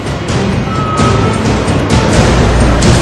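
Cars crawl through waterlogged Mumbai roads, their engines a steady low hum under a constant wash of rain and splashing water, with no talk.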